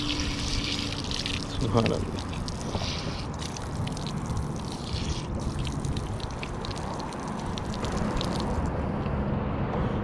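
Water splashes and trickles as it is drawn up from a small bored well at the Prophet Ayyub shrine, a steady running wash through the whole stretch while a voice speaks briefly over it.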